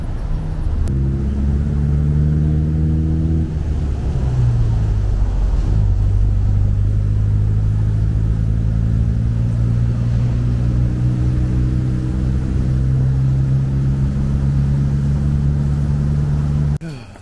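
A songthaew in Bangkok rumbles along with a loud, steady engine drone heard from the open rear bench, shifting pitch as it accelerates and settling into a sustained cruise.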